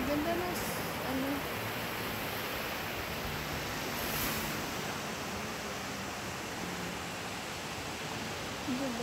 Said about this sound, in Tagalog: malakas kasi ngayon yung alon